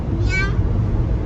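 A person imitates a cat's meow with a single short, rising and falling mew, heard close against steady background room noise.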